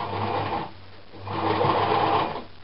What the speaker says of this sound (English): Just keep sewing, sewing, just keep sewing, and reach the end.